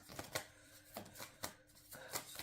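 Tarot cards being shuffled by hand, a handful of crisp riffling bursts spaced about half a second apart, close and fairly quiet with no talk.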